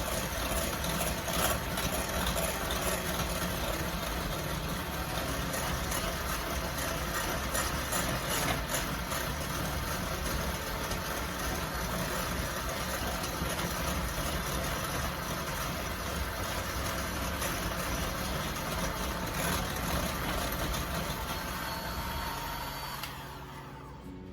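Cooked potatoes are whipped without dairy by a loud, steady electric mixer that whirs continuously, close and alone, then winds down at the very end.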